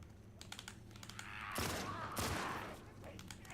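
Gunfire in the video game The Last of Us Part II comes as a quick rattling burst over a low background, after a run of lighter clicks.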